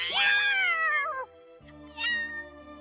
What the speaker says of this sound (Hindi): इस बिल्ली ने परेशान कर करके दिमाग खा लिया था